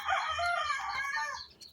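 Small ducklings peep in a dense, continuous chorus of high, thin calls, close by and fairly loud, with no one speaking.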